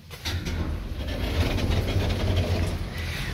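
A 2007 Thyssenkrupp scenic elevator rises from the basement toward the ground floor, giving a steady low mechanical hum and rumble with faint rattling, continuous and fairly close.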